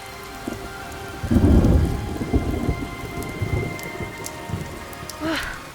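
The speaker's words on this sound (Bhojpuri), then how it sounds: "बारिश काफी बा।" Heavy rain with thunder in an outdoor rural setting, a steady loud downpour with a deep rumble swelling early and rolling on beneath the hiss of rain, without speech.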